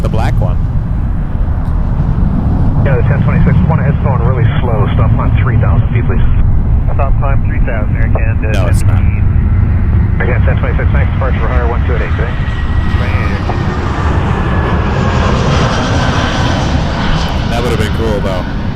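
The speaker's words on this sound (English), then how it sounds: "we flip around for a 320 coming in from Seattle" An Air Canada Airbus A320 jet arrives at Toronto Pearson, its engines a broad, steady roar that swells slightly as it nears, with radio voices talking over it throughout.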